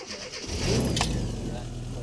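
Rover Classic Mini, one of the modern ones, cranking over and catching, its engine rising into a steady idle close by, fairly quiet, with a voice over it.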